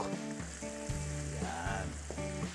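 A Chinese dish cooking in a pan, with a steady loud sizzle and frying crackle lasting the whole time and no talking, while tonal hums come and go underneath.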